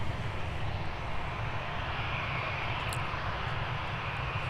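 An Air France jet takes off from Minneapolis–Saint Paul airport, bound for Charles de Gaulle, as a steady broad engine roar that holds at an even level throughout, heard from a distance with no voices.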